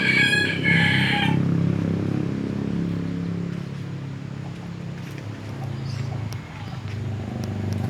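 A rooster crows once near the start among backyard village chickens, followed by low muffled clucking and a steady rumbling background, close and alone without talk.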